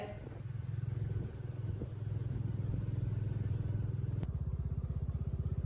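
Steady engine rumble of motorcycles rolling past on a mountain road in Ladakh, a continuous low drone with a brief clatter near the end, no voices.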